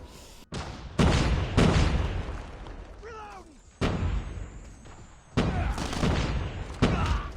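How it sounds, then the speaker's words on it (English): RPG rockets fired and exploding in the mobile shooter game COD Mobile: several loud, sharp booming bursts separated by short gaps, with a brief warbling whine between blasts and faint game voices around them. "So many of these guys missing these easy RPG shots."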